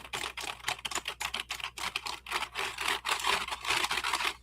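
Rapid, uneven clicking of keys being typed, steady tapping for several seconds with no voices.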